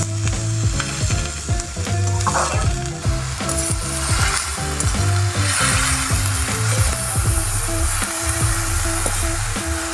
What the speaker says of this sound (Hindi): इसको फ्राई करते हैं थोड़ा अच्छे से